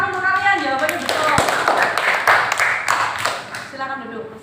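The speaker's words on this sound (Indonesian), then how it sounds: "Tepuk tangan untuk kalian, jawabannya betul." A burst of classroom applause with many hands clapping rapidly, rising then tapering off, with a voice speaking over the start.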